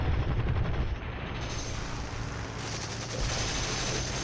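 Continuous machine gun fire from an aircraft in the War Thunder flight game, a loud dense rapid rattle that runs the whole time with a slight drop in intensity partway through, close and alone without talk.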